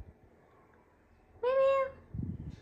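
A single short, rising kitten meow sounds close by in a quiet room, followed by a soft rustle.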